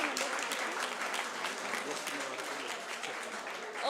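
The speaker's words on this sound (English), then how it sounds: "give a round of applause to these guys" Audience applause for a hackathon team at a live tech event, dense steady clapping from a crowd lasting the whole stretch, moderately loud with some chatter mixed in.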